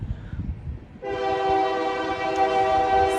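A train horn sounds steadily, loud and sustained after a brief stretch of rumbling, holding a rich tonal blare to the end.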